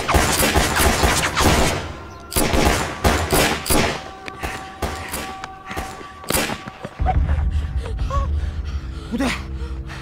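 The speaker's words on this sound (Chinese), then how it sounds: "不对，真是枪声啊！" Gunfire in a Chinese anti-Japanese war film set during a village massacre: a string of sharp, loud bangs and thuds in irregular bursts, close and forceful, mixed with sustained musical tones and a gasp.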